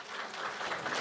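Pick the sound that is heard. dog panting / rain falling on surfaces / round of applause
round of applause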